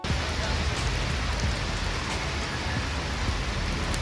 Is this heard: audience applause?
no